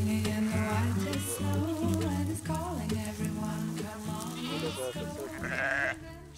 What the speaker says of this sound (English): Léa and Hubert have just released about 100 ewes into a field.